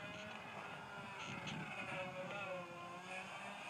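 Electric motor of an RC glider at half throttle, a steady whine droning on without a break, distant and faint, with wind noise outdoors.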